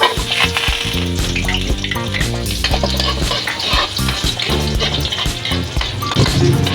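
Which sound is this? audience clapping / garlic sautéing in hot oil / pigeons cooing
garlic sautéing in hot oil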